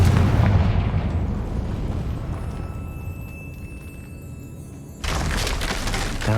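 A fiery spell explosion in Hogwarts Legacy bursts loudly and rumbles on as a long low roar with debris crackle, then a second heavy crash hits near the end.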